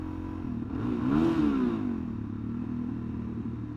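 A Suzuki DR-Z400SM motorcycle with stock exhaust revs up and falls back, a low throaty exhaust rumble that rises briefly then settles into a steady idle.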